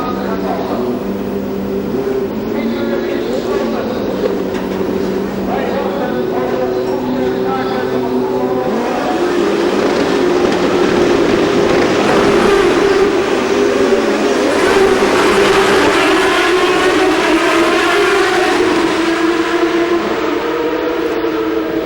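Champ Car open-wheel race cars roar off the start of the 2007 Grand Prix of Holland, a dense loud mass of engine drone rising and swelling as the field accelerates, with a commentator talking over it.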